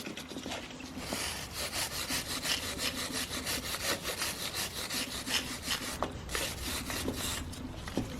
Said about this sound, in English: clean a bit of that brake dust off